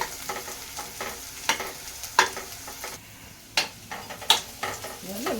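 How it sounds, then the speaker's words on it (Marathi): Garlic fries in a pan while drumstick-leaf bhaji is being prepared. A steady, close sizzle runs throughout, broken by several sharp scraping clicks from stirring. "लसूण पण त्याच्यामध्ये थोडंसं भाजून घेतली"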